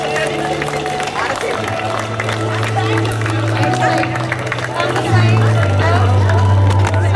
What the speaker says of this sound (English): keep applauding everyone